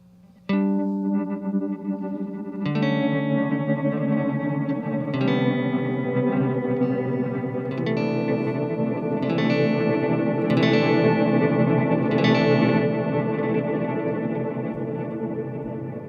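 An electric guitar through a dual multi-tap granular effects pedal: chords struck every few seconds dissolve into a shimmering, smeared wash of repeating grains that builds and sustains.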